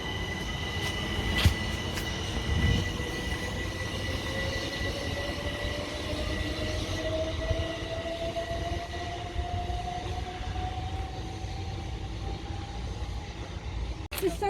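Class 377 Southern electric multiple unit on the Horsham to London Victoria service via Sutton rolls through a station, a steady rumble with a rising whine building over the pass and brief wheel clatter near the start.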